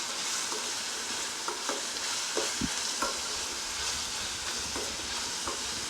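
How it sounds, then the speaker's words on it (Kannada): Carrot and coriander leaves frying in batter mix on a gas stove at medium flame, a continuous bright sizzle broken by occasional scraping clicks of a spoon stirring the pan, with no voices. "ಸೊ ನಾನು ಇದಕ್ಕೆ ಕ್ಯಾರೆಟ್ನ ಮಿಕ್ಸ್ ಮಾಡ್ಕೊತಾ ಇದ್ದೀನಿ. ಸ್ವಲ್ಪ ಕೊತ್ತಂಬರಿ ಸೊಪ್ಪು ಎಲ್ಲ ಚೆನ್ನಾಗಿ ಫ್ರೈ ಮಾಡ್ಕೊಳ್ಳಿ"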